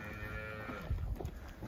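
F1 Braford and blue heifers low and moo in a pen, a couple of short, deep calls standing out over steady background noise, no talking.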